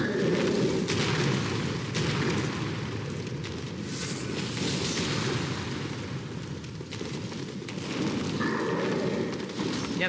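Fire and explosions in Dark Souls 3 make a continuous loud rumbling roar with crackling texture that swells and eases over about ten seconds, dense and close.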